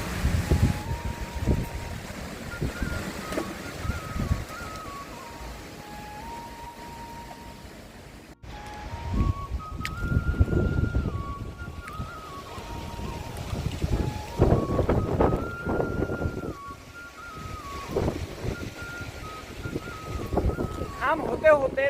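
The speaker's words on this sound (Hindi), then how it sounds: "बड़ी ज़बरदस्त हवा चल रही है" Strong wind blows across a hillside in a village, buffeting the microphone with a continuous roaring rush that swells and eases over time, while people talk underneath.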